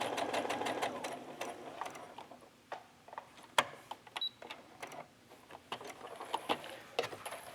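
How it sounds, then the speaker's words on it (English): A sewing machine stitches a long gathering row on fabric, running continuously at first and then in short bursts with mechanical clicks and taps, close and clear with no talking. "I'm going to widen my stitch to the longest setting it has, and I like to use 2 rows"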